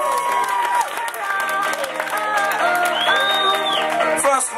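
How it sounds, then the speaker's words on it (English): A crowd at a prize ceremony for the 2011 European Steppen Championship in Woudenberg applauds and cheers for the camp crew, with dense clapping mixed with whoops and raised voices. "One applause for Jolanda van Baren and the rest of the crew from the camp."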